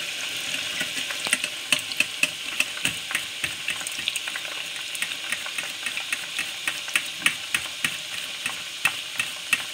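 Banana chips fry in hot oil with a steady, bright hiss and crackle, broken by a run of close, rhythmic popping bursts from the pan.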